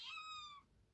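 A foster cat gives a single short meow, clear but quiet, trailing off after about half a second into a near-silent room.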